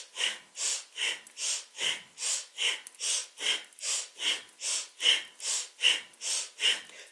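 Strong, rhythmic kundalini yoga breath of fire: forceful nasal inhales and exhales alternate in a steady, even pulse of about two per second, close and loud, with no talking.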